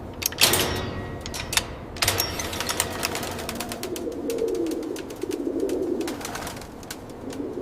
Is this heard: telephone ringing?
no